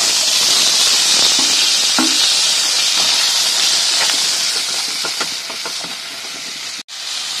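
Cut potatoes dropped into hot oil with dry red chillies, whole cumin and asafoetida, giving a loud steady sizzling hiss with light scraping clicks, cut off sharply near the end.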